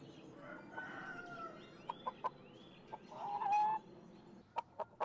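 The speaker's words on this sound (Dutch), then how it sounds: "Kip." A chicken clucks and crows in a farmyard, with several short sharp clucks spread through the clip and a longer crow partway in, over a low steady background hum.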